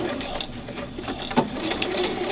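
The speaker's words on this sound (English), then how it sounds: "I'm going to start sewing this." A sewing machine stitches the long edges of a half apron, a steady close whir with a few brief clicks and no talk.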